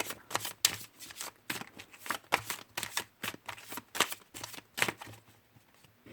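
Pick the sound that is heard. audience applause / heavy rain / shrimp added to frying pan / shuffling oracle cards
shuffling oracle cards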